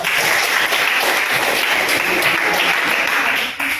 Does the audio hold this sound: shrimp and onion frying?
no